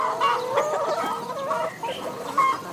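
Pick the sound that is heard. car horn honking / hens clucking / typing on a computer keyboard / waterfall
hens clucking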